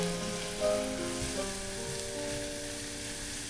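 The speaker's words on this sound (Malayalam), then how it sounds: "ഇനി ഇതിലേക്ക് നമ്മൾ എടുത്ത് വെച്ചിരിക്കുന്ന 2 കപ്പ് ഉള്ളി ഇട്ട് വഴറ്റാം" Two cups of onions sizzle and sauté in hot oil with salt, a steady, close crackling hiss with faint stirring scrapes.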